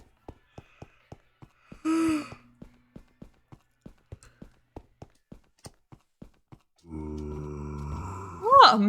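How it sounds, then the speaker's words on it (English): A person yawning with a long, rising, strained voiced breath near the end, preceded by a short gasp and a run of evenly spaced clicking taps in a quiet room. "I'm gonna yawn again"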